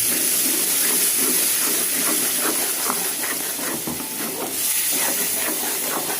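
Tomato puree poured into a hot pan of ginger and garlic for an egg masala gravy, giving a loud, sustained steamy hiss and sizzle with faint bubbling, close up and without talking.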